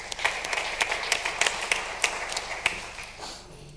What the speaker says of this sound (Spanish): O sea que un aplauso para Iñaki también